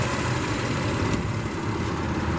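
A 2017 Volkswagen Touareg Wolfsburg Edition with a 3.6 liter V6 and 8-speed automatic runs with a steady, dense, unbroken drone, loud and close, with no voices.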